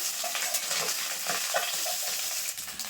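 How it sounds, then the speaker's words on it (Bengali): Small chela fish fry in a hot wok while being flipped, with a bright, continuous sizzle broken by a few soft scraping stirs close by. "এখন উল্টে দেবো মাছগুলো"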